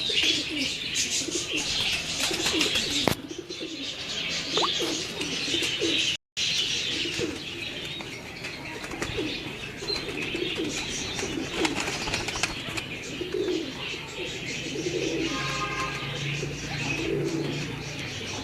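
Pigeons coo and chirp steadily in a loft, with occasional wing flaps and brief clatter, fairly close amid a busy background.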